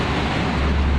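Worn connecting rod knocking inside a Honda Beat FI scooter engine, a steady close mechanical rumble with a dense low-end rattle that swells as the throttle is opened, running continuously with no talk.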